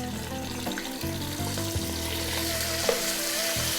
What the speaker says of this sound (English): We're then going to get our meat, our beef, and we're going to drop that in.